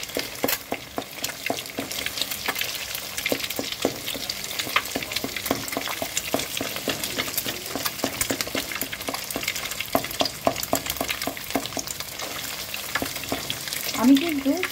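Egg bhujia, scrambled eggs cooking in ghee, crackles in a pan with a continuous soft sizzle and frequent sharp spatula scrapes and taps, fairly close and moderately quiet.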